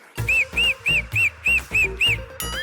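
A loud, shrill whistle from a person, repeated in about eight short, evenly spaced rising-falling bursts, close and sharp, like a piercing two-finger whistle.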